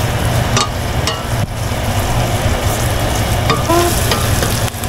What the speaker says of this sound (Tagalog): Haluin lang siya na hanggang maging ano, golden brown